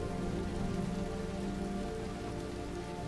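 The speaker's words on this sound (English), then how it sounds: "let's wait out the rain in the booth" Steady rain pours down in Road 96, a dense, even hiss of drops hitting surfaces that holds constant throughout, fairly loud, with a faint low hum underneath and no talking.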